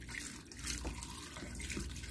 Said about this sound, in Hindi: अभी पानी डालना है,